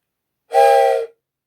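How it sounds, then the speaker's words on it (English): A train whistle gives a single short, loud blast of about half a second, standing alone against silence. "Goes the sound of the whistle."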